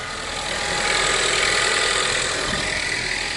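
A US-market Taurus car engine running loud and close, its rumble swelling and holding steady as it revs, with no talking.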